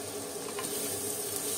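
Egg bhujia with onion and tomato is stirred in a hot pan, giving a continuous close sizzle and fry with light stirring scrapes and no talking.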